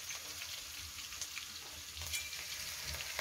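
Seasoned meat frying in a hot pan, a steady, soft sizzle with scattered crackles and pops, fairly faint and heard alone without talk.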